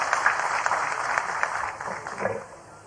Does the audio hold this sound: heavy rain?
no